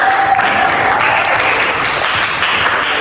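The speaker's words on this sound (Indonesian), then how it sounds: "Beri tepuk tangan untuk abang Mata." A classroom of students claps for a classmate, producing loud, close, dense applause that continues evenly for about three seconds.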